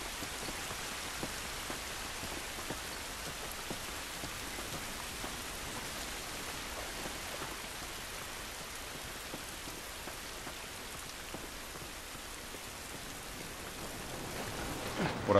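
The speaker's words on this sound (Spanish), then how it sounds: "Esta lluvia no nos ayudará." Steady rain hisses evenly over surfaces in The Last of Us Remastered, a constant wash of drops with no voices, holding the same moderate level throughout.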